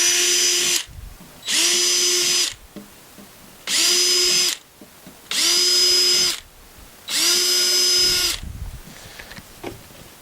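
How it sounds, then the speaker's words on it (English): A power drill with a 4mm bit bores holes into a plastic tub for a wormery, heard as five loud, close bursts of high whining drilling, each about a second or two long, separated by short pauses. "all I'm going to do is drill holes around the outside of the tub towards the top."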